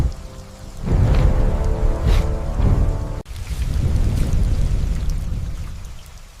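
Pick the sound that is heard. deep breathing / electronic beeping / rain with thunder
rain with thunder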